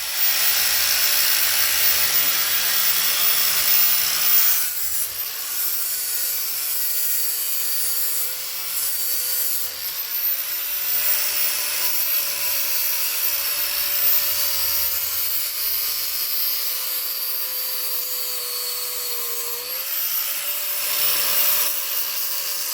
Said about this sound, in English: It's about cutting and grinding.